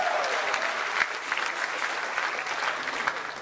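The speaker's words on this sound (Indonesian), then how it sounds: "Jadi boleh tepuk tangan apresiasi buat para musisi kami di Indonesia." A crowd applauds dangdut musicians at a local Christmas event with an orkes Melayu band, a steady wash of clapping that stays even and moderately loud for the whole stretch, with no voices over it.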